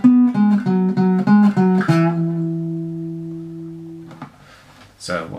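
An electric guitar plays a song's solo: a quick run of plucked notes, then a held bend ringing out and fading, followed by a couple of faint string scrapes.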